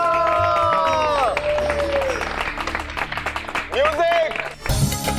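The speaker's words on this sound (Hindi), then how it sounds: "तालियां।" An audience bursts into loud applause and cheering at a televised family dance performance, with dense clapping and crowd babble throughout and brief tonal musical sweeps rising above the noise.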